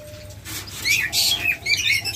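Caged lovebirds at a bird seller in Bangladesh give bright, quick chirps and squeaky calls in short bursts, close and fairly loud over a low background hum.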